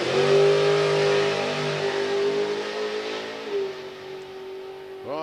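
A drag racing car at a professional event accelerates hard down the strip, its loud engine tone holding and then dropping as it recedes, with a brief rising tone near the end.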